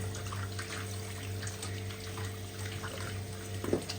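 Tap water runs steadily over boiled pork spareribs being washed in a sink, a fairly quiet, continuous trickle and splash with no voices.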